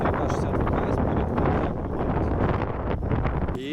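Heavy wind buffets a smartphone microphone outdoors, producing loud, continuous low rumbling and blustery roar that drowns out everything else for the whole moment.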